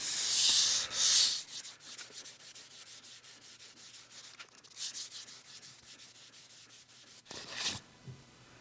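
Hand sanding on a wooden dresser along the grain: steady rasping strokes, louder bursts at the start and near the end, with softer rubbing in between, close and alone.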